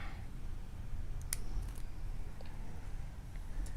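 Scissors snip through crochet yarn in a quiet room, giving one sharp close cut followed by a couple of fainter clicks.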